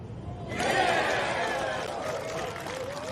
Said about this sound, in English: And you heard the roars, Karen. There's an appreciative crowd with this group.